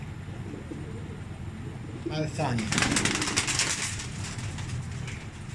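Kamarli pigeons coo softly close by, and a brief burst of flapping or rustling rises midway while someone talks over them.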